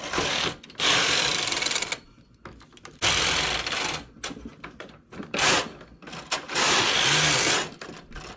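A knitting machine works rows of chinchilla stitch for a knitted pelerine, its carriage sliding across the bed in loud, mechanical whirring bursts of about a second each, separated by short pauses.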